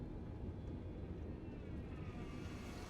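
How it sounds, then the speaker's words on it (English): Airbus A320neo rolling out on the runway after touchdown in Microsoft Flight Simulator, a steady low engine and rolling rumble with a faint high whine rising near the end. "It touches down, bit of a wing drop, did a bit of a better flare that time, but still we are now manually rolling out on the runway"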